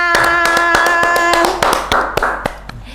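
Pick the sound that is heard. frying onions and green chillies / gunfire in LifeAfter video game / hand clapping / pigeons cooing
hand clapping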